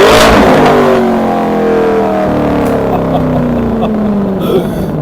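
A BMW X6M Competition engine in sport mode revs hard, then its pitch slides steadily downward as the revs fall away. The sound is loud and close and fills the whole clip.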